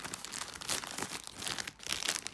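Plastic packaging bag around an Incase Compact Sleeve in Reflective Mesh for a 15-inch MacBook Pro being opened, with steady close crinkling and rustling throughout and no talk.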